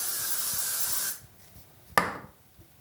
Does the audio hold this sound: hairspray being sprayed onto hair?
yes